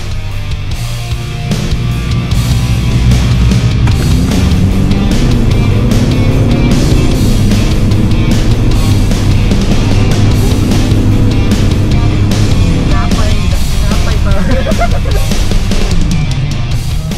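A drag-race car in Davao City accelerates hard, heard from the back passenger seat: a loud engine roar climbs in pitch through the gears and holds close and constant with no talking.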